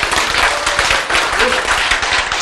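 Brief burst of audience clapping during a Korean lecture, steady and fairly close, filling the whole short moment without speech over it.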